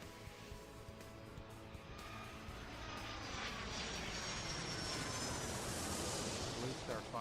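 A propeller airplane takes off in the airport-management game Airport Madness 3, its engine drone swelling steadily from a low rumble into a louder broadband roar over about seven seconds.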